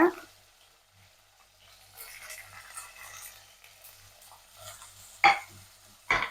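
Onion and garlic frying in hot oil with a soft, low sizzle and a few light stirring scrapes, including two sharper clatters near the end, in a village-style kitchen while a dried fish curry is being made.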